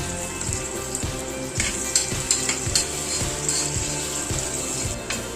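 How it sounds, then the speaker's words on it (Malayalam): Thinly sliced onions fry in hot coconut oil and ghee, a close, even sizzle with occasional stirring scrapes and no one speaking. "വെളിച്ചെണ്ണയൊക്കെ നല്ലപോലെ ചൂടായി വന്നിട്ടുണ്ട് അതിലേക്ക് നമുക്ക് ഒരു മീഡിയം സൈസിൽ ചെറുതായിട്ട് നീളത്തിൽ കട്ട് ചെയ്ത സവാള അങ്ങോട്ട് ചേർത്ത് കൊടുത്ത് നല്ലപോലെ ഫ്രൈ ചെയ്തെടുക്കുക"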